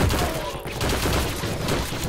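Dense gunfire rattles through a Heroes & Generals battle, a loud continuous fusillade of overlapping shots filling the whole stretch while a player's voice talks over it.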